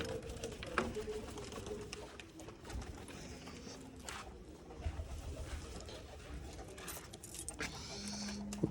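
Pigeons coo softly inside their coop on a cold, foggy day, low murmuring calls amid faint rustling and clinks, with a few brief sharp noises.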